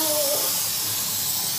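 A steady, broad hiss from a spray can runs throughout, loud and close, with a faint voice at the very start.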